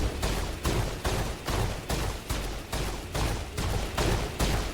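Sustained rapid gunfire in Mass Effect, loud and close, with steady rhythmic volleys repeating about every half second throughout.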